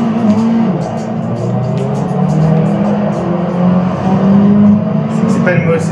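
A Suzuki motorbike engine in a VR racing game on the Mugello circuit drones steadily and loudly throughout, a sustained low roar that swells slightly near the end.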